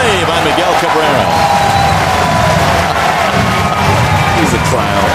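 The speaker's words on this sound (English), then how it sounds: "That's the biggest round of applause he'll get all day." A steady, loud roar of crowd cheering and applause in a baseball stadium at a 2012 Detroit Tigers game, with an announcer talking over it.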